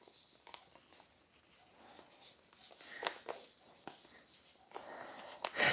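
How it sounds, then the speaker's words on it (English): A marker squeaks and scratches across a plastic vacuum sealer bag in short, quiet strokes, close up, with soft breathing and faint background noise in between. "Now, I'm going to write spring and summer on here."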